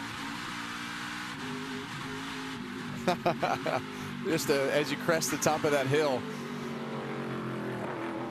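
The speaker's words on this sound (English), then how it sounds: "Listen to this engine right here." A NASCAR Craftsman Truck Series race truck engine at San Diego revving hard through rapid throttle bursts during a lap, under steady commentary talk.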